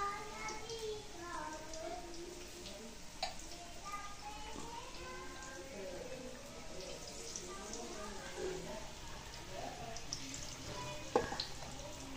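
Oil sizzles and crackles steadily as potato bhaji fritter batter fries in a wok, with quiet voices talking in the background.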